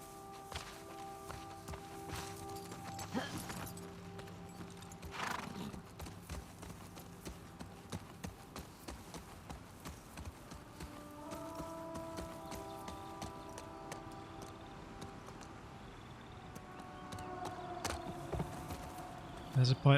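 Horse hooves clip-clop at a walking pace in The Last of Us Part 2 near a collapsed highway by a waterfall, a steady moderate rhythm under game music and ambient tones.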